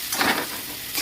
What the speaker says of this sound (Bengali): এই যে পেঁয়াজটা ভাজা হয়ে গেছে